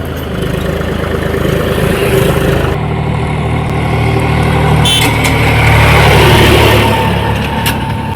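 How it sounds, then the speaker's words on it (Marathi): A tractor engine rumbles steadily nearby, a loud continuous low drone that swells slightly as it draws closer, with no talk over it. "आता येतं ट्रॅक्टर."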